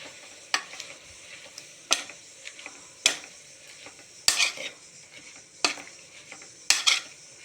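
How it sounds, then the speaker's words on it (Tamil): Spinach being stirred and sautéed in a pan, a soft low sizzle punctuated by about six sharp metallic scrapes and clinks of a spoon against the pan at regular intervals, close by, no talking. "அந்த கீரையை அப்படியே அதில் போட்டுருங்க கீரையை போட்டு நல்லா வணக்கி விட்டுட்டு"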